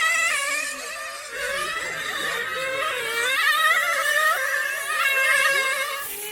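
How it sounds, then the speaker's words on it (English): Nitro-powered RC cars race at a reunion race day, their high-pitched engines whining and buzzing in overlapping, wavering tones as several cars rev and pass throughout. "A whole bunch of melee at a Nitro race"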